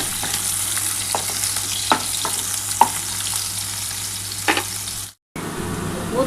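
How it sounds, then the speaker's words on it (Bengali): Onion and garlic fry in hot oil for fish bhapa preparation, giving a steady close sizzle with a few sharp stirring clicks and scrapes, then a brief silent gap before the frying resumes. "আমার কিন্তু পেঁয়াজ আর রসুনটা কিন্তু মোটামুটি ভাজা হয়ে গেছে"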